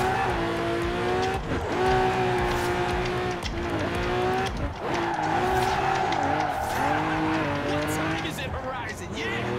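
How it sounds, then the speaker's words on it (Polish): A Lamborghini Aventador drifting around a roundabout in Forza Horizon 4, its engine droning and shifting pitch as the tires squeal steadily through the slide, loud and close, while someone talks over it. "Probat ćemo jedan mali lagani drift u kružnom toku"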